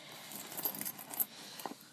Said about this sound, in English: it comes with like two keys to unlock it